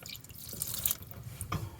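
Water drips through the sea strainer of a 55-year-old sailboat's engine: several close, distinct drops and small splashes spaced irregularly, fairly quiet, with no talking.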